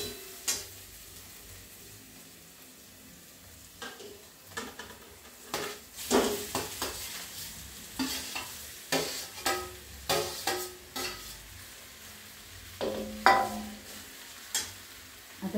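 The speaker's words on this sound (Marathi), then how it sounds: "आपण हा त्याच्यामध्ये ब्रेड टाकतो।" Bread pieces stirred into a pan of frying potato and onion with ginger and garlic, a steady low sizzle broken by repeated scraping and clacking strokes of a spoon against the pan, close and fairly quiet, no talking.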